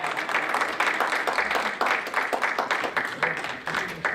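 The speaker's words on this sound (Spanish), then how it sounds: "Un aplauso, ¿no?" Audience applause in a church congregation, a steady dense patter of many hands clapping throughout at moderate loudness, with no clear talk over it.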